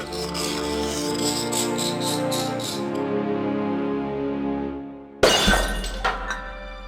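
A glass cabinet is smashed in the video game Discworld Noir: a sudden loud crash and shatter breaks in after a sustained tonal musical bed, with a second smaller burst of breaking glass trailing after it.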